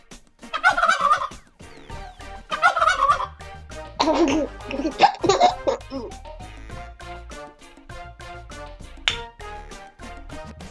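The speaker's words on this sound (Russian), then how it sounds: "Индюк." A turkey gobbles in several loud bursts over a backdrop of cartoon music, heard on a farm in a children's cartoon about farm animals.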